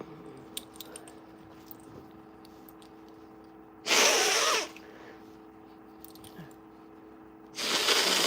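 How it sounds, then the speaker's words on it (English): A person blows their nose twice, two loud, harsh bursts of about a second each, separated by quiet room tone with faint small rustles. "I gotta blow my nose"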